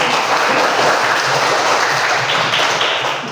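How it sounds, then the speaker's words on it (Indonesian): A group claps together at a children's gathering, a loud and steady burst of applause that holds at full strength and then begins to fade at the end. "tepuk tangan untuk kehadiran kita semua"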